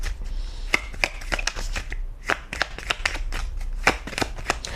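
A deck of tarot cards shuffled by hand at close range, with rapid riffling bursts and soft slaps repeating unevenly and alone, with no voice.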